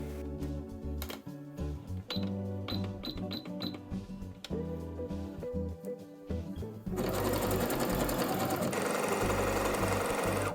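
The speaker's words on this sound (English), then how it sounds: "understitch by sewing a zigzag stitch close to the seam on the facing side, all the way around the neckline" Sewing machine running a zigzag understitch around the neckline of a knit dress, a close, busy mechanical whir with rapid rhythmic clicking that steps up to a louder, denser run partway through.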